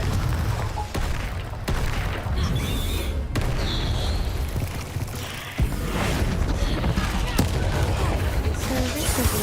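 Confringo fire spells cast in Hogwarts Legacy burst in a dense run of booming blasts and crackling impacts over continuous game combat noise, loud and close throughout.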